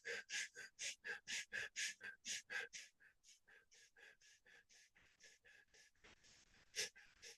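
Rapid fire-breathing exercise: a quick, even series of about twenty sharp nasal breaths, strong at first and then softer, with one loud burst near the end.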